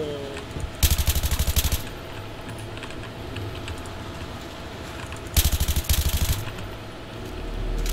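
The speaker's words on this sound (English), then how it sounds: "we're already getting shot at" Automatic gunfire in the Battlefield 3 PC shooter, two short rapid bursts of rattling shots a few seconds apart over a low steady game background.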